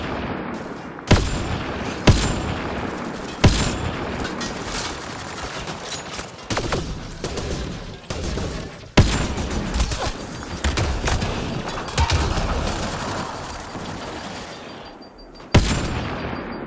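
Gunfire in the sci-fi shooter Mass Effect Andromeda, with sharp loud shots cracking at irregular intervals over a continuous rumble of combat and ambience, with a little speech mixed in.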